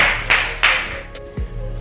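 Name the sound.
audience applause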